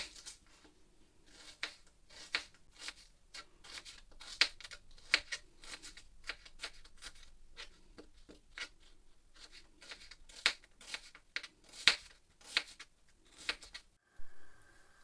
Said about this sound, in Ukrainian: Далі цибулю нарізаємо півкільцями